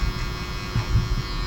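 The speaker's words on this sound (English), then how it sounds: "But right now we're just gonna do trimmer work." Zero-gap hair trimmer buzzing steadily during a barbershop fade and lineup, a close continuous electric hum with slight fluctuations as it works along the hairline.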